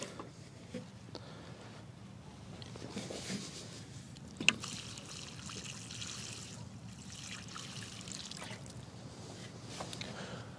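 Water trickles and splashes in a gentle stream onto garden soil around the roots of a newly planted bare-root rose, soft and continuous with a faint click midway, outdoors and quiet.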